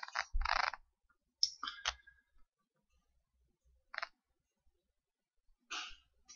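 A computer mouse clicking in a quiet room, several short sharp clicks in small bursts separated by silence.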